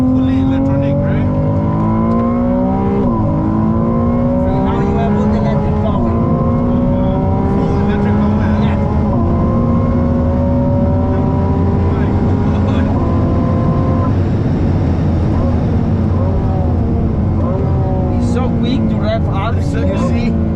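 Ferrari 296 GTB V6 revving hard while driving, climbing quickly through several rising sweeps and gear changes, loud and close inside the cabin, with people talking over the engine.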